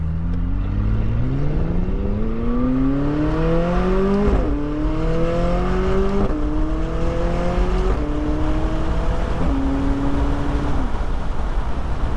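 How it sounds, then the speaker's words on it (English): A McLaren 600LT Spider's exhaust roars steadily, its pitch climbing through several gear shifts as the engine revs up, loud and close with no voices. "let's see if you guys can pick up the sound of this exhaust here"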